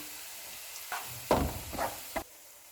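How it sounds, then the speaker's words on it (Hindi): Flour being fried in a pan for creamy chicken pasta: a few soft sizzles and scraping stirs come in short bursts over faint background hiss, fairly quiet and close. "इसमें मैदा डालेंगे और इसको 3 मिनट तक भूनेंगे"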